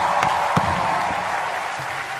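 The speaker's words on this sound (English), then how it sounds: "please give a huge fucking round of applause for Ranveer Singh and Arjun Kapoor" An audience in a comedy roast hall claps and cheers in a dense, steady wash of applause that slowly fades over a couple of seconds.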